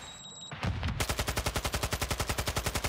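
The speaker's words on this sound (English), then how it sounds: "We hear sniping going off to our left-hand side as well" Sniper gunfire in Warzone 2 erupts after a brief quiet start, a fast, steady string of sharp, loud shots with an evenly spaced, pulsing rhythm that continues to the end; no speech.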